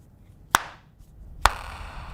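A Samsung Galaxy Z Flip 5 phone's hinge snaps shut twice in a quiet room, each a sharp, crisp clap about a second apart, close and clean with nothing else around it.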